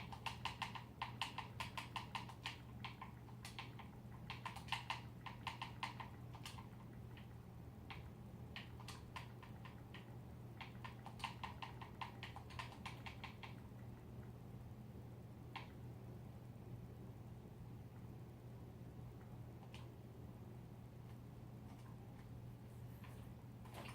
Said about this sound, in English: Let's type over here.